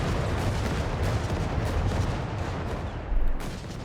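Battle din from Company of Heroes 3 with a scoped Enfield rifle firing among other weapons. Loud, continuous crackle and rumble of gunfire and artillery, with a heavier thump near the end.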